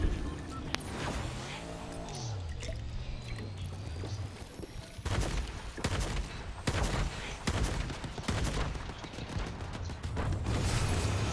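Video game gunfire from a strafing run, loud repeated bursts of rapid shots in a steady rhythm through the second half, preceded by engine and ambient game noise.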